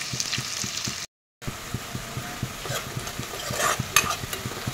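Onions frying in oil in a pan for chicken curry while a utensil stirs them, giving steady sizzling with a regular rhythm of scraping strokes, close and fairly quiet, with a brief silent gap.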